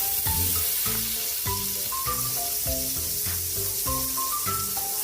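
Butter sizzling in a hot pan while sautéing pork pickles: a steady, close frying hiss runs throughout, with background music playing over it.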